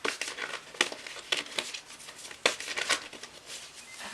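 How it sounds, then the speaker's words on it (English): A deck of message cards is shuffled, giving quiet, irregular papery riffles and crisp snaps that are close and soft, without speech. "I'm shuffling"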